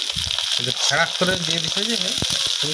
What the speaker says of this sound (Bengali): আদা বাটাটাও একটু লাড়ার পরে লঙ্কা গুঁড়ি 2 চামচ দিয়ে দিই, হলুদ গুঁড়ি 1 চামচ দিয়ে মশলাটাকে কষিয়ে নেবো